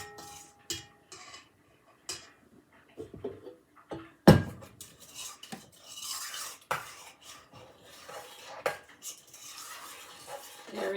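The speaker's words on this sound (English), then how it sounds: "I'm just going to lift this up and give that a quick stir by hand." A mixture is stirred by hand in a pot, with scattered scraping, clinks of a utensil against the rim and a sharp knock partway through, close and fairly quiet.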